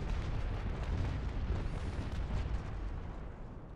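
Broadside cannon fire from sailing warships in the naval combat game Naval Action, heavy booming blasts rolling into a dense continuous rumble, loud and sustained without any talking.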